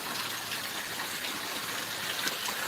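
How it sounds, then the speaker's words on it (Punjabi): Heavy rain pours down outdoors with a constant broad rushing hiss of water, loud and close, and no voices. "ਪਿਛਲੇ ਅੱਧੇ ਘੰਟੇ ਤੋਂ ਮੀਂਹ ਪੈ ਰਿਹਾ ਬਈ"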